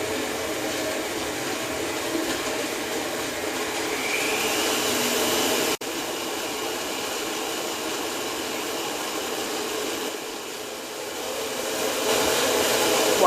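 An electric stand mixer runs on high speed while kneading bread dough, giving a steady, loud motor whir with a brief dropout partway through.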